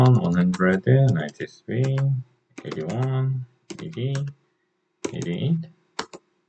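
Calculator buttons are pressed during Korean IB math exam problem-solving, with short, light clicks scattered under steady male speech and a brief run of clicks near the end.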